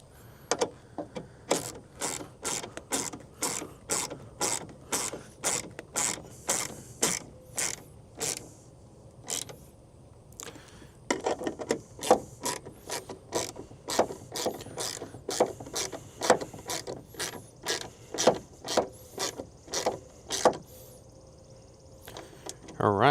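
Ratchet clicking in rapid bursts as two tail light bolts are tightened on a 2018–2020 Ford F150, close and crisp, with short pauses between runs of clicks.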